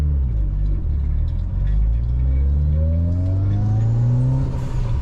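Mitsubishi Evo 9 pulling hard through the gears, its engine note climbing in pitch, dropping at a shift, then rising again, loud and close from inside the car.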